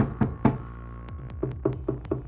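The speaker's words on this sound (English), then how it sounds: "It's like I'm knocking at the front door" Knuckles rap on the wooden side panel of an Arcade1Up Mortal Kombat Legacy 30th Anniversary Edition cabinet, with eight or so solid, resonant knocks, close and loud, in uneven pairs and then a steadier run.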